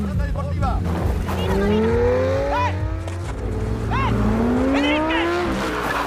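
White Lamborghini driving past, engine revving with rising and falling pitch sweeps and brief tire squeals, heard amid loud background music and street noise.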